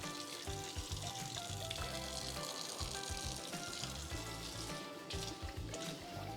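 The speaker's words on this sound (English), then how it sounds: "Use the cold water from the tap to make sure you collect all the rice from your pot." Cold tap water runs into a cooking pot to rinse out leftover rice, giving a steady close splashing rush that continues unbroken throughout.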